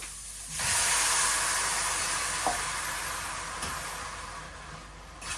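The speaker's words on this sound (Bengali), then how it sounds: "চিংড়ি মাছটা আমার ভাজা হয়ে গেছে এখন এই যে দিয়ে দিলাম" Prawns frying in a pan: a sudden loud burst of hissing sizzle, then a steady, slowly fading spatter with a few faint clinks, close by and with no talking.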